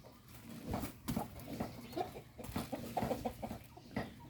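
A chicken clucks repeatedly near a cat that is eating, soft close clucks in an irregular rhythm over faint background noise.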